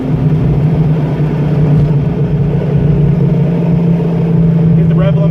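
1987 Ford Mustang Fox engine droning loud and steady at high rpm, held against the rev limiter, close up inside the car.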